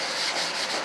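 A sanding block with 220 grit sandpaper rubbing over filler on an F-9F model build, a close, steady raspy scrubbing in quick, even strokes.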